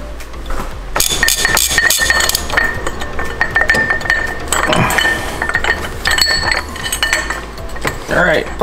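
Bolts and a pulley being pulled off a BMW E92 M3 engine, a run of metallic clinks and clanks as parts and tools knock together, close and irregular, with brief talk at points.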